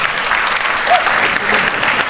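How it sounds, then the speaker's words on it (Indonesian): Audience applause for Puang Amran Sulaiman at a youth forum speech in South Sulawesi, a steady wash of many hands clapping, loud and sustained throughout. "Tepuk tangan"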